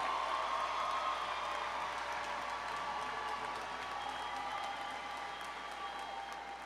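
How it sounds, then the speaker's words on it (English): A large commencement crowd claps steadily for master's degree graduates at a university ceremony, broad sustained applause at close range that tapers slightly toward the end, with no talk over it. "let's take an opportunity to give them a round of applause, all of our master's degrees"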